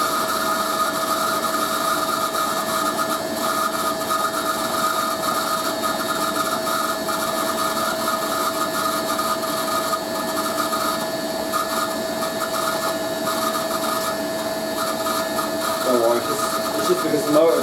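A Hoover A3060 Electronic 1100 washing machine runs a 60°C coloureds wash, its motor with dry bearings giving a steady whining hum with a constant tonal whine over a rough mechanical drone, loud and close throughout.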